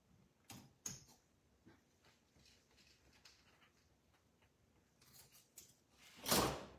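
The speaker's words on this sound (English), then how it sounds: "I need a fabric kind of scissors for this ribbon." Fabric scissors snip through ribbon in a quiet room: a few soft, crisp cuts early on, then a louder rustling snip near the end.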